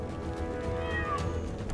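A cat meows in the LEGO Marvel Super Heroes 2 video game, one drawn-out, wavering call heard over steady game background sound.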